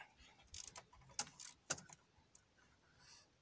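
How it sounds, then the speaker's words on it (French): Ratchet with a small 10 mm socket loosening a throttle body bolt on an Alfa Romeo Giulietta 2.0 JTDM, giving a few quiet, irregular clicks and metallic ticks close by, with no talk. "petite douille de 10 et un cliquet"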